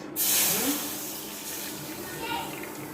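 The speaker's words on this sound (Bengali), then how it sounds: "এবার কড়াইতে দিয়ে দিব এক কাপ লিকুইড দুধ" Milk poured into a hot pan of fried semolina gives a sudden hissing splash that fades into a softer, steady bubbling sizzle.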